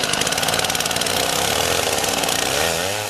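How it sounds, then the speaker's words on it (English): A chainsaw mounted on a basic Alaska mill rig runs at a steady high roar while milling a log bucked to a 14-foot length, loud, close and unbroken throughout, with no voices. "The first stage of milling it up with the chainsaw using a fairly basic Alaska mill rig"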